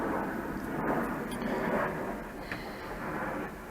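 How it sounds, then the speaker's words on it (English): An airplane drones overhead outdoors beside a chicken yard, a broad, steady rumble that swells and fades slightly, with a few faint knocks and clicks nearby. "Airplanes are driving me nuts today."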